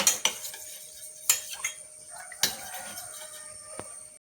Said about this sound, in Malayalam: അതും കൂടി ഇട്ടിട്ട് നന്നായിട്ടൊന്ന് നമുക്കൊരു മിക്സ് ചെയ്യണം.